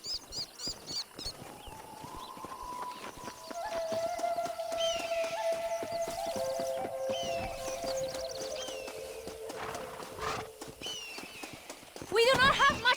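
In the video game Red Dead Redemption, horse hooves clip-clop steadily as a stagecoach rolls along, with creaks and a whinny near the end while people talk over it.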